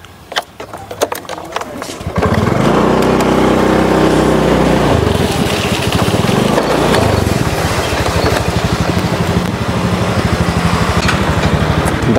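A motorcycle with a flat tyre runs loud and steady at close range. The engine drones continuously after a short burst of rattling at the start.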